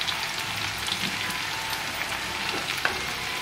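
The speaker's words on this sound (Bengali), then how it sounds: "এবার আমি মশলাটা দিয়ে আলুটাকে কষিয়ে নেব" Potatoes cooking with salt, turmeric, cumin powder and Kashmiri red chilli in a pan for a soybean curry, giving a steady close sizzle and crackle with faint stirring scrapes and no talk.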